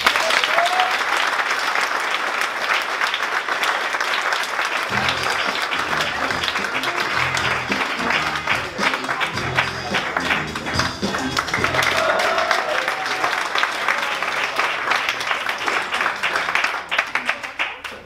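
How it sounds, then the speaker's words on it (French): Sustained audience applause at a comedy and song performance venue, a dense, full roar of clapping that holds steady for a long stretch with rhythmic claps joining partway through, then fades at the close. "on lui donne un triomphe d'applaudissement à Jacquino."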